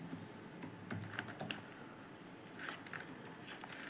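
Steady typing on a computer keyboard while entering text in Tally ERP 9 accounting software, a dense run of soft, quick key taps lasting several seconds, close and quiet, with no talking.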